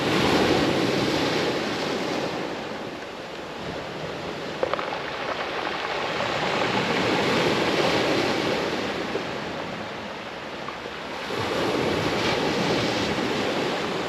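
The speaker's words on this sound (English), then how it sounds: "sorry about the sea, it's a bit noisy" Sea waves wash steadily onto a beach at Doniford Bay on the Bristol Channel, loud and continuous, with wind buffeting the microphone and swelling surges of surf through the whole stretch.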